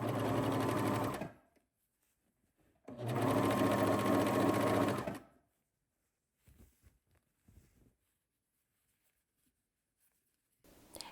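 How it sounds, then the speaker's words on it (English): A serger overlocker stitches a fabric seam for a McCall's 8030 shirt dress. It runs in two steady, loud whirring bursts of about one and two seconds, followed by faint handling clicks, with no speech. "I'm going to serge off right where that fabric cut, where that notch is"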